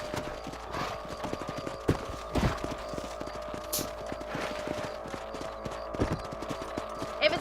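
Horse hooves clip-clop along steadily in the Red Dead Redemption video game on a ranch, a continuous rhythmic beat with occasional louder thumps, heard close over ambient game sound with no talking.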